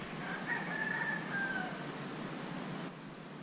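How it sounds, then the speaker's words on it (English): A rooster crows at a distance late in the morning, a single drawn-out call over steady outdoor wind and hiss beside a winter fishing bank. "I don't know why that rooster's still crowing."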